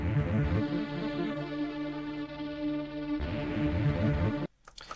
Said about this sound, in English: I brought over the patterns and I dropped the ARP down 12 semitones, so it sounds like this